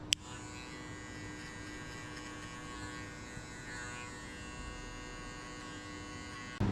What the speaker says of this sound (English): Just flick the clipper out.